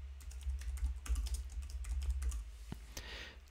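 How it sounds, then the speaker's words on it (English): Fingers type on a computer keyboard in a quick, close burst of soft clicking keystrokes, with no voice. "In this case, I'm going to type something."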